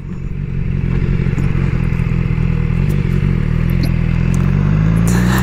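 A 2016 BMW S1000XR motorcycle with a chain drive and a non-boxer engine runs steadily and loudly throughout, with a constant engine drone mixed with wind rumble while riding.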